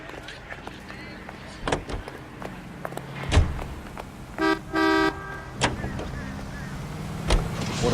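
Car driving in the L.A. Noire video game, with a steady low engine rumble under scattered talk, a couple of horn toots in the middle and sharp thumps from doors or impacts.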